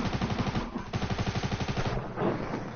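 Rapid automatic gunfire in a shooter video game rattles in a steady, fast burst, briefly pausing before the firing resumes and then tapers off, moderately loud with no talk.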